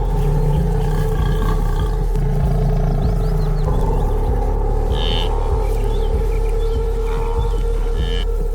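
A lion roars loud and close, a deep sustained rumbling call with throaty pulses, out on the open savanna during the great migration.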